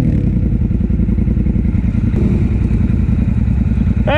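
A motorcycle on a benefit ride runs loud and close with a steady, rough engine drone throughout, plus faint rattling clatter from the bike.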